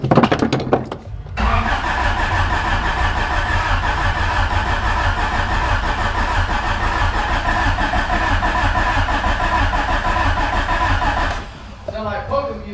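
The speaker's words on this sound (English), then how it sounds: "We're gonna spin the motor over so that we get oil through it and prime it." A car motor with an automatic gearbox spun over on the starter to push oil through and prime it, a steady mechanical whir running loud and continuous for about ten seconds before cutting off, with brief voices around it.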